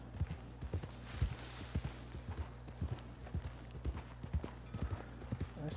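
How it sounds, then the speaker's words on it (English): A horse in the Red Dead Redemption 2 video game clip-clops steadily along, a long run of evenly spaced, punchy hoofbeats over a constant low drone, close and clear throughout. "I bonded with my horse."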